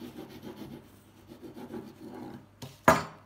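Crusty homemade cereal bread crackling as it is pressed or broken, a soft continuous rustling crunch that ends in one sharp, louder crack near the close; no talking.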